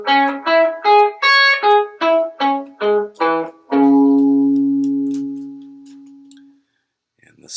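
An electric guitar with a slightly distorted tone plays a minor arpeggio in third position, about a dozen clear, evenly spaced plucked notes climbing and descending, ending on a long sustained note that fades out, with no talking.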